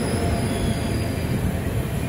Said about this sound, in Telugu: చెన్నై ఎగ్మోర్, కన్యాకుమారి ఎక్స్ప్రెస్ అండి.